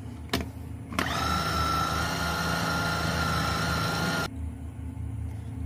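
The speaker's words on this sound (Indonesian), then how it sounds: "Blender hingga tercampur rata ya." A kitchen blender whirs steadily for about three seconds, mixing chicken meatball paste with beef stock powder, baking powder and salt, starting with a sharp click and cutting off abruptly, close and loud, with no talking.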